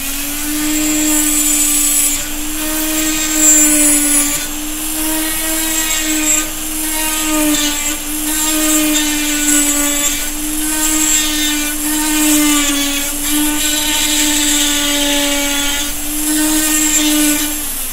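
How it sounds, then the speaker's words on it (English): A flex shaft grinder whines steadily as it grinds thin steel on a katana fitting, a continuous high rotary tone with harmonics that shifts slightly in pitch under load, close and loud throughout with no talking. "just trying to grind off the majority of the stuff without taking up all of it"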